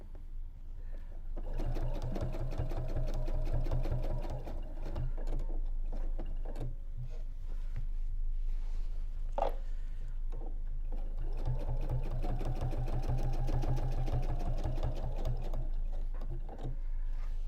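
A sewing machine stitches parallel quilting lines around a patchwork triangle block, running in two long rhythmic bursts close by with a brief lull between them.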